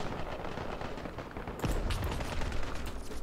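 A heavy mortar blast booms midway through a video game convoy ambush, followed by a sustained rumble and scattered crackling over a steady background roar.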